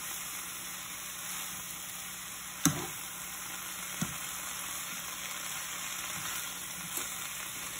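Spinach sautés in a hot pan with the burner switched off, a steady soft sizzle and hiss running throughout, with a few faint clicks and knocks as the greens are moved around.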